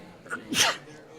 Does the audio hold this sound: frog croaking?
no